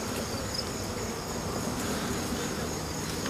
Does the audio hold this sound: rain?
no